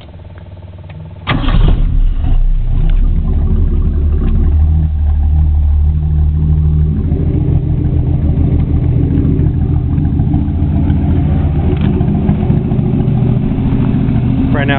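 Mini Kenworth truck engine cranks and catches, then runs at a steady, rumbling idle close by with slight revving throughout.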